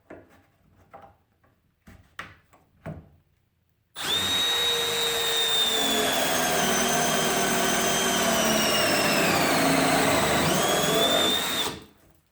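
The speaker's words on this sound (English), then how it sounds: "drilling a 35mm hinge cup using the 12-volt drill" Milwaukee M12 Gen 2 FUEL 12-volt hammer drill boring a 35mm hinge cup hole at high speed, low torque: a few clicks and handling knocks, then a loud, steady whining motor drone for about eight seconds that dips briefly under load before stopping.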